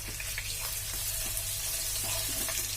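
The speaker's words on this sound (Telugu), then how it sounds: "ఇప్పుడు ఇందులోనే అల్లం వెల్లుల్లి పేస్ట్ అనేది వేసుకొని కొంచెం ఫ్రై చేసుకోవాలి" Ginger garlic paste frying in a pan for an aloo masala curry: a steady hiss of hot oil over a low hum, with soft intermittent spattering.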